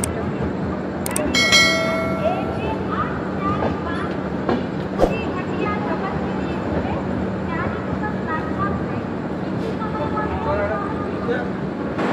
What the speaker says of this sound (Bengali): প্ল্যাটফর্ম নাম্বার 2-তে আমাদের ট্রেন ঢুকেছে